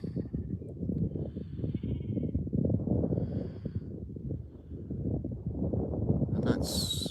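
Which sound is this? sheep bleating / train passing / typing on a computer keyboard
sheep bleating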